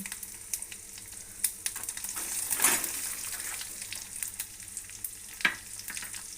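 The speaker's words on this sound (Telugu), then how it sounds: "ఇప్పుడు ఎండుమిరపకాయలు వేస్తాను. వెంటనే జీలకర్ర, వెల్లుల్లిపాయలు," Dried red chillies, cumin and garlic frying in oil, a close crackling sizzle with stirring scrapes and a few sharper pops and bursts, moderately loud and continuous without speech.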